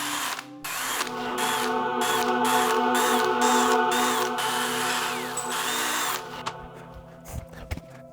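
A power drill bores a hole while installing a basement railing, its motor whining steadily and close for about six seconds with brief stops, then a few clicks and knocks as it winds down.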